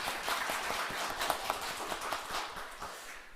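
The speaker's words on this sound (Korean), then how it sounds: "이 시간 부활하신 주님께 영광의 박수 올리겠습니다." Congregation clapping in glory to the risen Lord during an Easter thanksgiving service, a steady, quiet, even patter of many hands heard at a distance with no talk over it.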